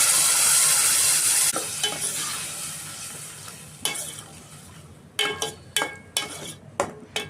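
Tomato puree made with onions and a little yogurt sizzles loudly in a hot pan for paneer curry, the fizz fading gradually, then several sharp metallic scrapes of a spoon stirring against the pan, close by.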